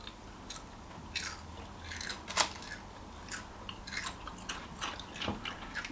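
Close-up crunchy chewing of air-fried pie pastry, with repeated crisp bites and munching at an uneven rhythm, no talking.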